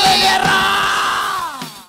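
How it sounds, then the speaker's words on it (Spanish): A crowd in the stands at a live worship concert in Honduras lets out a long, loud sustained battle cry, a massed roar that swells and then fades off at the end. "Está ¡grito de guerra!"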